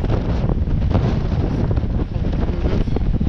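A strong gust of about 32 knots hits a sailboat crossing the windy Strait of Bonifacio, producing loud, continuous roaring wind buffeting against the microphone with no gaps.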